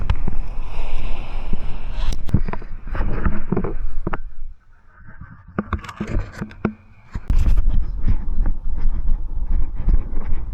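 Strong ocean waves surge and crash at Boracay beach, loud and close, with wind buffeting the microphone; the roar eases into a quieter lull midway before the heavy surf returns.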